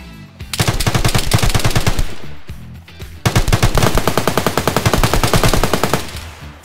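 An AK rifle in DayZ fires two long full-auto bursts of loud, rapid shots, the first lasting about one and a half seconds and the second about three seconds after a brief pause.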